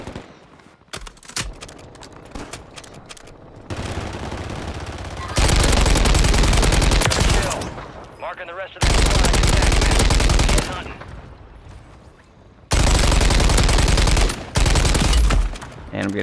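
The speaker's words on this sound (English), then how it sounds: "And I'm getting shot at." Rapid automatic gunfire bursts from a Call of Duty Warzone match on Rebirth Island, loud and dense, arriving in several sustained volleys separated by quieter gaps.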